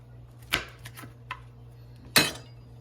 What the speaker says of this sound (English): So now we're going to trim the ends off of the green beans.